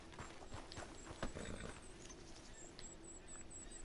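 Horse hooves clip-clopping in the Red Dead Redemption II video game, a faint, steady rhythm of hoof steps set in a low background of ambient outdoor sound.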